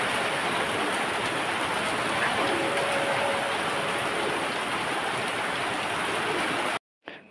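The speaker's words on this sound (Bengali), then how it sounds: "প্রচুর বৃষ্টি হচ্ছে" Heavy rain falls in a steady, dense hiss close by, unbroken for several seconds before cutting off abruptly near the end.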